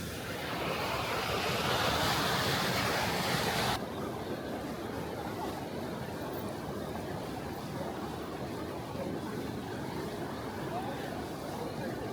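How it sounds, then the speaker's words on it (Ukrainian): Steady rushing water of a mountain river in the Alps flows without a break, a dense broadband roar that is slightly louder for the first few seconds and then stays even. "Річка тече."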